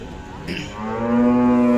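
Khillar cattle at the Sangola cow market give a long, swelling moo that grows louder and holds steady over a noisy outdoor crowd background.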